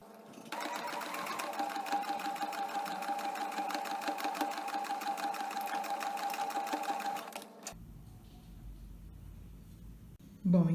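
A sewing machine stitches slowly and steadily around the curve of a trouser fly, a continuous close whirring hum lasting several seconds, then stops and leaves a faint low rumble of handling.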